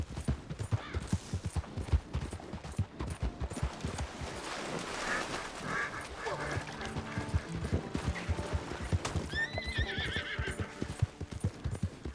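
In the video game Red Dead Redemption 2, a galloping horse's hooves clip-clop in fast rhythm throughout, then a faint whinny rises near the end, all fairly quiet and low in level.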